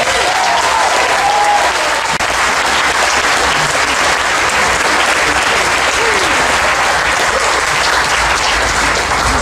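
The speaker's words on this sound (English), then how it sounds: "Give them a huge round of applause." Loud, sustained applause from a large live audience at a folk festival comedy game show, dense and even clapping that fills the space from start to finish without any talk over it.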